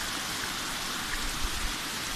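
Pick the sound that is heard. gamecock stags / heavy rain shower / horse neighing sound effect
heavy rain shower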